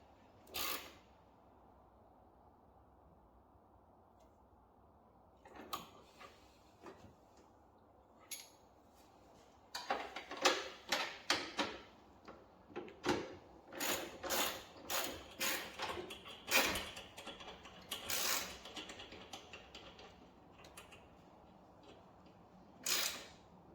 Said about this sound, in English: We're just going to tighten these bolts back up.